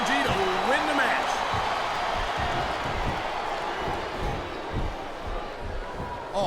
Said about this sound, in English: these fans are fired up now